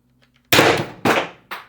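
Three sharp, loud pops from an airsoft Pistelle X-68 pistol firing 0.684 ammo, each with a short decaying tail, spaced about half a second apart, with faint clicks just before.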